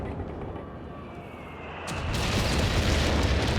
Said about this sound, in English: Naval bombing out the back